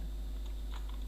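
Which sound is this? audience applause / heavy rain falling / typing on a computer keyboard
typing on a computer keyboard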